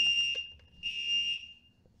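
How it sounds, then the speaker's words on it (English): Indoor fire alarm going off: two loud, piercing high beeps, the second longer, with a short gap between them and no talking. "This fire alarm is not making this any better right now."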